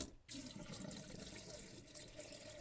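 Water runs into a sink drain with the taps open in a summer cottage being prepared for winter, a soft continuous trickle that starts after a brief pause.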